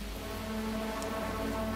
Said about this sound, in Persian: موزیک حماسی طور شروع شد، خیلی با بارون فضا سازی